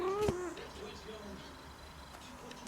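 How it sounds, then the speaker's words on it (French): A house cat gives one short, rising meow near the start, then only faint room noise follows in a quiet indoor setting. "Et revoilà mon chat."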